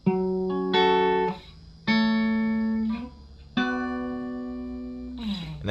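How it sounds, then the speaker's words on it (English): Clean guitar plays a song's chord progression, with plucked chords rolling and ringing in turn, each struck, left to sustain and fade before the next, with no voices. "So the entire chord progression should sound something like this."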